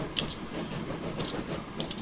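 A train runs along its track in the Transport Fever video game, a steady rumbling rail sound with faint periodic clicks and hiss, continuous and moderately loud with no talk.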